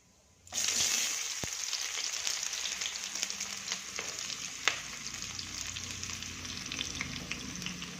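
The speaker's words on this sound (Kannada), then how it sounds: "ಈಗ ಈರುಳ್ಳಿ ಹಾಕ್ತೀನಿ" Onions frying in a pan give a steady, close sizzle that kicks in abruptly after a brief quiet start and carries on evenly, with a few faint clinks and stirring noises.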